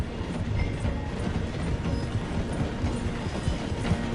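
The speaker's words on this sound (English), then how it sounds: "The train is slowing down to go through the station." A train in Red Dead Redemption 2 slows as it passes through a station, giving a low steady rumble with clanking, rhythmic rattling of the wheels and cars at a moderate, distant level.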